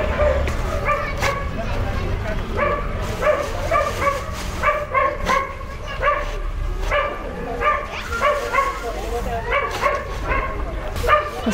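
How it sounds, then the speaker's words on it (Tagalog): Several dogs bark, yip and whine repeatedly outdoors in a street setting, in a steady overlapping chorus of short barks at moderate distance. "Grabe yung mga aso. Narinig nyo guys."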